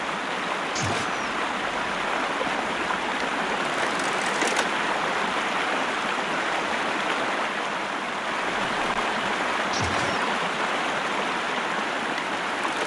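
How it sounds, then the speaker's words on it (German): Rushing river in the video game Sherlock Holmes: Crimes & Punishments, a dense and steady wash of flowing water with a few faint thumps on top. "da die ganze Zeit das Rauschen von diesem Fluss."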